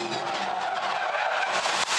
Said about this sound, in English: It skipped all the way across the gravel and made the wall there.